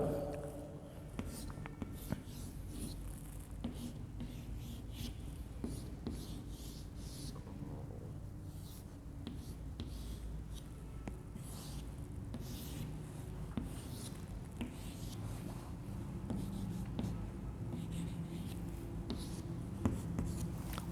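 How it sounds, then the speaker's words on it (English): A pen scratches and rubs across a board while drawing a square, producing faint, continuous close-up scraping strokes with short pauses, as a voice speaks softly now and then. "I am going to draw this square as a computer."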